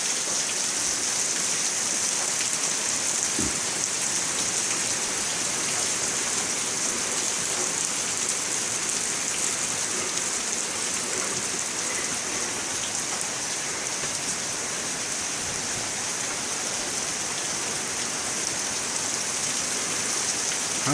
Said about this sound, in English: Checks out the rain